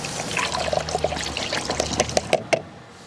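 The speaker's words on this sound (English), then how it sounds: "we just need to top this up with a little bit more coolant, a little bit more deionized water, until we get to the max mark" A premixed blend of coolant and deionized water pours into the coolant reservoir of a BMW 7 Series, a close trickle with bubbling glugs that quickens into a run of gurgles before stopping.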